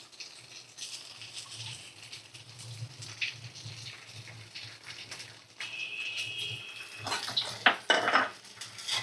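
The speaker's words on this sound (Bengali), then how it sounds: "ডিমটা দিয়ে ভালো করে আমি ভাজা করে নেব" An egg frying with onion and capsicum in a pan while pasta is prepared, with utensil scrapes and clinks against the pan, soft sizzling underneath, and a few sharper metallic knocks near the end.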